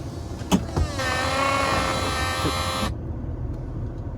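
The electric soft top of a BMW Z4 E85, with a recently replaced roof motor, closes with a steady whirring motor whine lasting about two seconds, preceded by a couple of clicks and followed by quiet.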